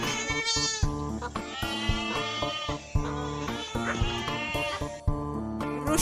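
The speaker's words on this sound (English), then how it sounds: "Goat make a bleat sound." A goat bleats several times over continuous background music, with repeated wavering calls spread across the passage.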